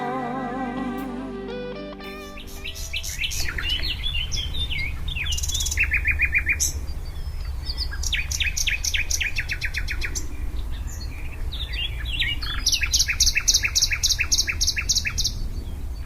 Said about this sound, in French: Des corneilles mantelées et un milan noir arrivent également.